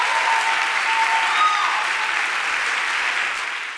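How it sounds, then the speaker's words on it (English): A crowd gives a big, sustained round of applause at an immigrant rights gathering in Brooklyn, dense clapping holding steady before easing slightly at the end. "we really have a big round of applause for Nayim Islam"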